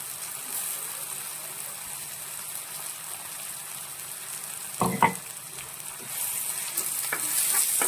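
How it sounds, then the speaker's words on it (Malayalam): Ground coriander and black pepper paste frying in a pan for a sardine curry, a steady low sizzle with a sharp clatter of stirring midway and frying that grows gradually louder toward the end. "ഇതിലേക്ക് നമ്മൾ അരച്ചു വെച്ചിരിക്കുന്ന അരപ്പ് മല്ലിയും കുരുമുളകും കൂടി അരച്ചില്ലേ ആ അരപ്പ് കൂടി നമുക്ക് ഇതിലേക്ക് ചേർത്ത് കൊടുക്കാം"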